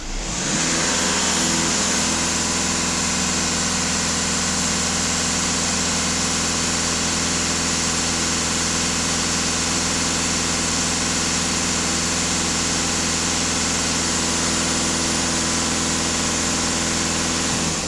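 A diesel car engine, from a Passat, Leon or Octavia with heavy soot buildup and a NOx fault, runs at steady raised revs during a sensor test, a loud unbroken drone with constant low hum and no talk.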